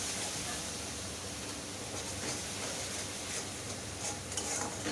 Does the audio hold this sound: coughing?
no